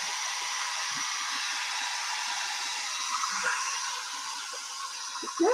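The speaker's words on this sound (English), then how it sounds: "let's see if we can put an Easter egg in the hair dryer" A hair dryer with a plastic Easter egg inside blows with a steady airy whir, with faint light knocks and rattles from the egg.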